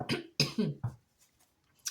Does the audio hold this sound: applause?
no